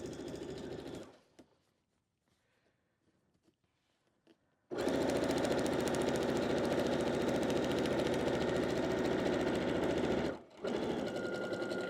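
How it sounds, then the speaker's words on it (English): A sewing machine stitches a seam on a layered tulle skirt, running in a short burst, pausing for a few quiet seconds, then whirring loudly and steadily nearby for about six seconds, with a brief stop near the end before starting again. "finish sewing that line of stitches"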